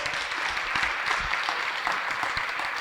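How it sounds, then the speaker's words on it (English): A seated audience at a mayor's city family meeting applauds, producing dense, continuous clapping that holds at an even level from start to finish. "Let's give brother Abby a huge round of applause."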